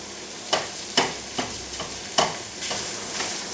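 Minced beef is stirred and fried in a pan for a homemade tomato and basil pasta sauce, a constant sizzle broken by about six sharp scraping strokes of a utensil, close and clear.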